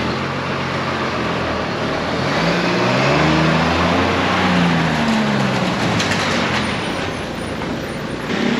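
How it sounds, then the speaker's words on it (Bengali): A bus passes along the Mirissa beach road in Sri Lanka on a damp day, its engine note rising and falling in a steady broadband roar with a low drone, loud and close, with no voices. "এই ওদের বাস।"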